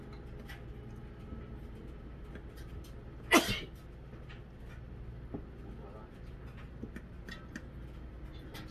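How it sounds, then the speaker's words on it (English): One sharp, loud sneeze from a person frying copycat KFC-style chicken in a home kitchen after pepper got up their nose; it bursts out briefly over a steady low background hum. "That ain't the last sneeze, I can tell you that."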